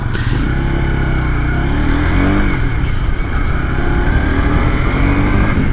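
A new, still-running-in Honda CB150X motorcycle being ridden, its engine droning loud and steady with a mild rise in revs, wind and road noise mixed in close to the mic.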